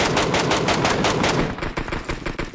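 Rapid automatic gunfire rattles in the PUBG Mobile game, a dense loud burst of shots that thins into scattered separate cracks toward the end.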